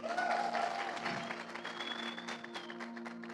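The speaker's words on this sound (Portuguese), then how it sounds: "Uma salva de palmas para ele, gente." A church congregation applauds together, a dense steady wash of clapping that swells at the start and then holds at a moderate level, with faint voices and a sustained musical tone underneath.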